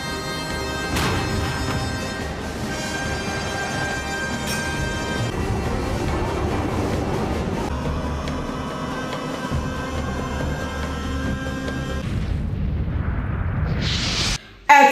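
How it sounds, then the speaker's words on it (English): Bomb explosion sound effect in a war drama: a sustained, loud, rumbling roar that holds for about twelve seconds, then fades, followed by a brief sharp burst at the end. "Is everyone ready to drop the bomb?"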